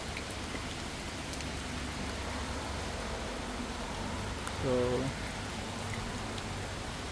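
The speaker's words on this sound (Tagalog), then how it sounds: "Umuulan." Steady rain hisses softly and evenly throughout on a highway road trip near Chiang Mai, with a brief murmur of a voice partway through.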